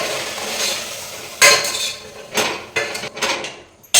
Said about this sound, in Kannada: ಸ್ವಲ್ಪ ಇದನ್ನ ಆಯಿಲಲ್ಲಿ ಫ್ರೈ ಮಾಡ್ಕೋಬೇಕು